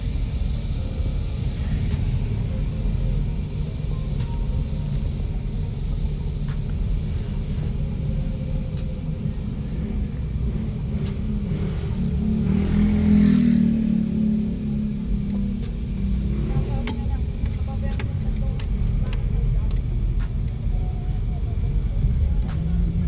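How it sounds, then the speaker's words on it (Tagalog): A car engine rumbles low and steady throughout while driving near Sampalok Lake, swelling slightly louder around the middle. "Sasakyan."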